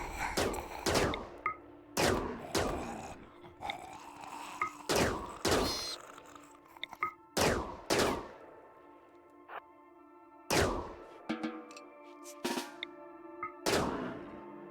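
Gunfire shooting buffalo in the video game RimWorld, with sharp single shots and short bursts spaced irregularly, loud and punchy, with brief tonal game sounds between them.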